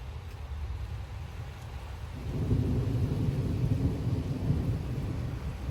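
Heavy rumbling thunder rolls through a severe thunderstorm with rain and gusting wind in Frisco, Texas, the low roar swelling louder partway through and holding steady, with no voices.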